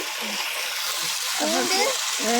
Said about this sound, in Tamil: மிளகாய் வெங்காயம் எல்லாம் வேகுது